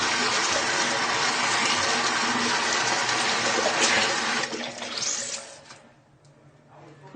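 A Sonia Kashuk makeup sponge is wet under a steady stream of running tap water, a loud continuous splashing rush that cuts off near the end, leaving a quiet tail.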